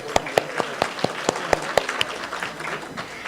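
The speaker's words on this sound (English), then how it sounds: "I'd like you all to applaud on that note" A conference audience in an atrium applauds at a care event, claps starting as sharp distinct hits, then blending into a dense, fading round of clapping.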